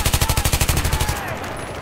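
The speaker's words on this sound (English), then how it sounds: "I just shot him with a shotgun." Shotgun and automatic gunfire in Battlefield 3, a rapid burst of about a dozen sharp, evenly spaced shots at close range, then a fading tail.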